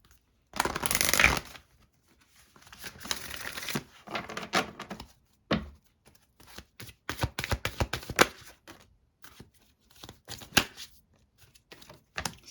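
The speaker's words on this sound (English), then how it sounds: "I want to go ahead and pull some cards and see what we get from Spirit" Oracle cards being shuffled by hand: close, crisp riffling and shuffling bursts in several bouts, separated by short pauses and followed by scattered card taps and flicks, with no voices.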